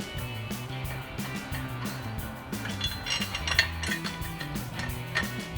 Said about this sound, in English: Get our 2 bolts back in.